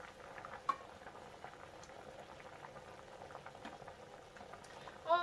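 Water boils gently in a pot of kichadi, a soft steady bubbling and patter with a few small pops, faint and close, with no talking.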